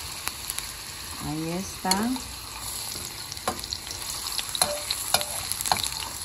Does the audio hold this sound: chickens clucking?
no